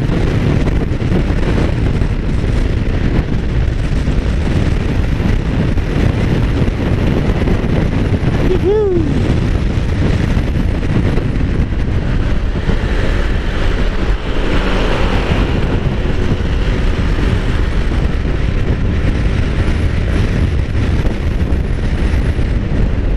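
Strong wind buffeting the microphone while riding a Yamaha XMAX 250 scooter, a loud, constant low roar that lasts the whole ride, with someone talking over it.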